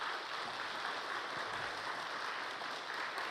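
Church audience at a Monday noon concert applauding to welcome performers onto the stage, a steady wash of many hands clapping, fairly faint and distant, with no one speaking over it.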